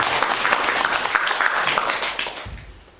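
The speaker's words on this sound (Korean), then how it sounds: "우리 다 같이 환영의 박수로" A church congregation gives a welcoming round of applause, a dense, steady wash of many hands clapping that fades out toward the end.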